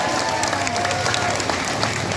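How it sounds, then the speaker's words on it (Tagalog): A crowd at a political event in Cabiao, Nueva Ecija claps steadily, a dense, continuous patter of applause throughout, close and fairly loud. "Palakpak kayo ng palakpak."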